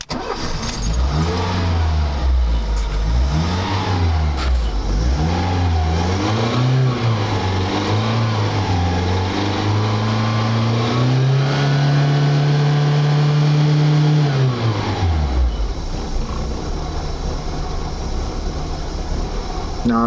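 A small two-stroke Trabant 1.1 car engine, cold, revs up and down in rising, wavering surges, then holds a steady high drone before dropping off; loud and close.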